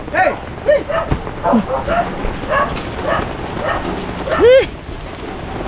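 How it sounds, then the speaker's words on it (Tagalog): Several sharp barks and yips from a dog mixed with whimpers, close by, with people's voices and light rain in the background. "Yung aso ni Emilia"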